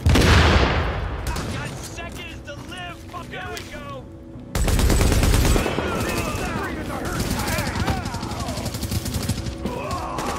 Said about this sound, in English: He's launched a grenade.